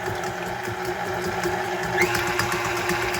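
An electric mixer beats ingredients for a pumpkin pie in a bowl. Its motor makes a steady close whir that rises slightly toward the end, with faint rhythmic ticking, and there is no talking.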